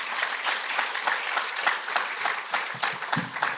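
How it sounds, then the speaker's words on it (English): Steady applause from an audience at a wealth creation and life skills training session, a continuous dense patter of many hands clapping at even volume throughout. "I think she deserves a bigger round of applause."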